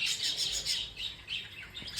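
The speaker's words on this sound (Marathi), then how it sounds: "टेरेसवरती भरपूर पक्षी आहेत" Birds nesting on a terrace chirping in quick, high bursts, a few overlapping calls close by against a quiet background.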